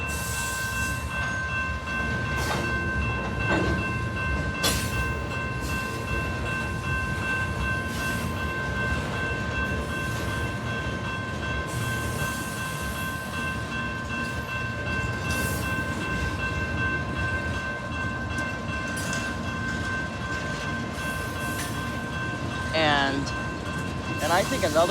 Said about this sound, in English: Oh my God, it's been a long train.